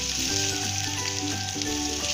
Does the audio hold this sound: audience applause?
no